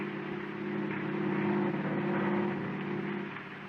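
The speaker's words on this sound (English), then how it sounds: "you and Shelley are driving home from an after-theater party" A car drives along steadily as a radio drama sound effect, a constant close engine hum with low droning tones that swells slightly midway and holds without any talk.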